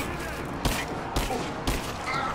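Enemy automatic rifle fire in Rise of the Tomb Raider, three sharp shots or short bursts at roughly half-second intervals over a steady, noisy game background.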